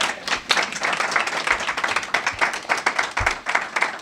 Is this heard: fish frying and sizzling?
no